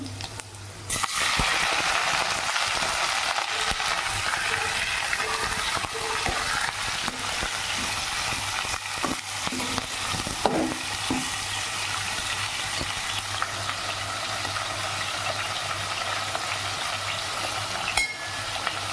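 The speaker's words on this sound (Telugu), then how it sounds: "ఉల్లిపాయల డబ్బాలు వేసుకొని ఫ్రై చేసుకోవాలి. ఇప్పుడు దీనిలో చికెన్ యాడ్ చేసుకోవాలి." Chicken pieces fry with onions in a hot pan for chicken rasam, a loud steady sizzle running throughout with occasional stirring knocks.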